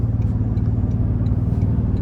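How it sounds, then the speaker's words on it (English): Cabin drone of a 2024 Toyota Tundra Capstone with the twin-turbo hybrid V6, a steady low engine hum under way as the truck pulls, loud and continuous with no talking. "the pull you get from this twin turbo hybrid motor is just insane"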